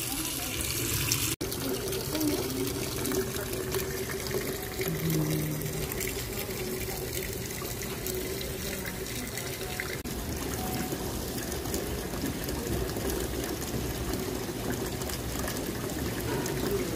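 Water pours steadily into a foot bath at a Korean medicine centre in Seoul, a continuous close rushing flow that persists throughout, with faint room sounds and a brief knock near the start.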